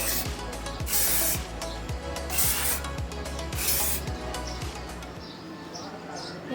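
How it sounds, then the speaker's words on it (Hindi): Hairspray hisses onto a styled hair bun in several bursts, steady and close, while a low, regular ticking runs underneath and the sprays stop near the end. "तो अब हम अपने बन को भी स्प्रे करेंगे।"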